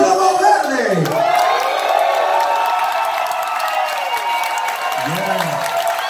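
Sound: audience applause welcoming drummer on stage at a concert

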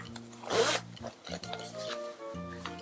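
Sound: zipper of small front pocket on iPad bag

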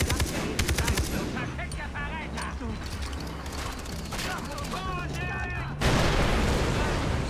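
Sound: explosion and gunfire in video game Far Cry 3

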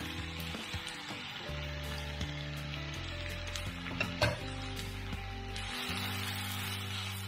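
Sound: onion and carrot frying in hot oil

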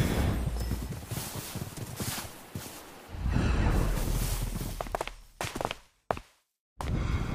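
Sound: skeleton horse hooves in a video game (Minecraft)

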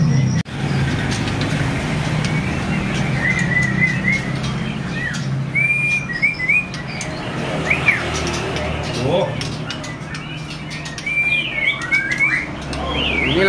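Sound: murai bird singing

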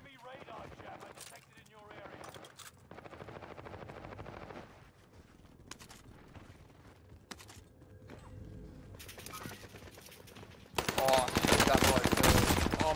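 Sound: gunfire in video game Warzone

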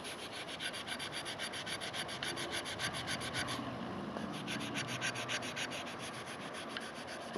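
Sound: rubbing rust off knife spine with rubber-based abrasive

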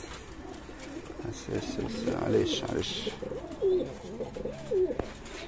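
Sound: domestic pigeons cooing in a loft

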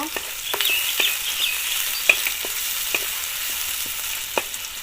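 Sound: chopped garlic frying in a pan

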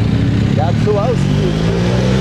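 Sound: motorcycle riding alongside a cycling race

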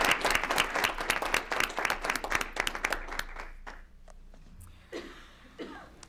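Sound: round of applause for Autumn and Mackenzie

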